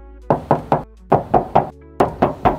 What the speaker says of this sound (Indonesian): Dan untuk bodinya kita tes ketok lagi nih.